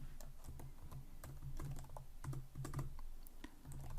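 Quick, irregular clatter of keys on a computer keyboard while someone writes Kotlin code, the taps fairly close and steady, with short clusters and brief gaps, heard alone without talk.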